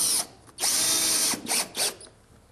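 A power drill drives a 2 1/4 inch screw at a 45-degree angle through a hidden decking clip into a board, giving several short, close, high-pitched whirring bursts with brief pauses between them.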